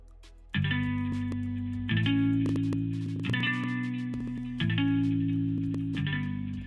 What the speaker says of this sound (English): And here's the effect with the CLA.